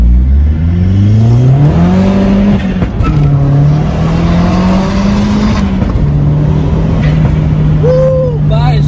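Hybrid-turbo Opel Astra OPC engine accelerating hard from inside the car, a loud rising drone climbing through the revs with a brief shift dip, then holding a steady strained pitch; a voice briefly exclaims near the end.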